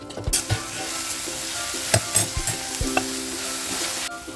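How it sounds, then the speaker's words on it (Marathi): Masala seasoned with garam masala and salt sizzling as it is stir-fried in a pan, with a bright continuous hiss broken by several sharp spoon scrapes and clinks against the metal, close and clear with no talking. "आता इथे चवीप्रमाणे मीठ घालायचं मसाला चांगला परतून घ्यायचा"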